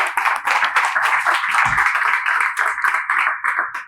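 An audience at a scientific talk on the universe claps in dense, sustained applause, loud and close, with no voices over it.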